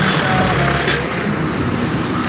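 Vehicles approach and pass along a narrow town street in Milaor, a steady broadband road rumble with engine noise close by and no pauses.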